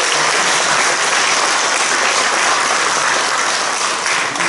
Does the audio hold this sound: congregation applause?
yes